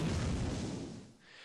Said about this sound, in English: Yay, pretty explosions.